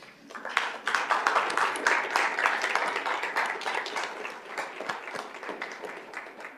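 Audience at a school governing board meeting applauds standing parents, a steady wash of many hands clapping, moderately near and holding for several seconds before easing slightly.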